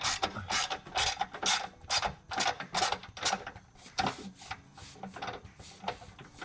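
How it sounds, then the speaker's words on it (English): A 9/16 socket wrench removes the mounting nuts from a pop-up camper frame, giving rapid close ratcheting clicks in quick rhythmic bursts with brief pauses and no speech. "9/16 socket. Go ahead and remove the 3 nuts."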